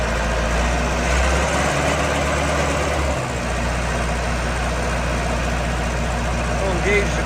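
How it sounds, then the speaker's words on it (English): A 1993 Vermeer 1250BC machine's diesel engine runs at a steady, loud, low idle while it hydraulically rotates, its deep rumble continuous throughout with a brief dip midway. "The machine hydraulically rotates."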